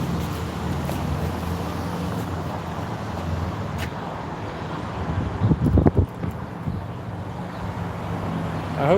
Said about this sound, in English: I hope that wind dies down a little bit when I go to eat dinner outside tonight